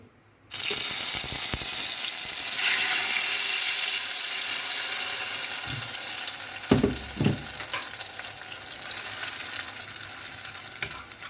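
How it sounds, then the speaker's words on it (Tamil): Food sautéing in hot oil in a pan, a loud continuous sizzle that starts abruptly and carries on, with a few scraping stirs and clunks partway through, close up and without talk. "பானையில் எண்ணெய் சூடாயிடுச்சு."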